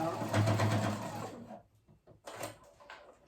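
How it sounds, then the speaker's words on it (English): Sewing machine running a quick burst of basting stitches through fabric for a kid's tank top, a close whirring rattle that stops, followed by brief handling sounds. "I'm just going to go ahead and, baste stitch"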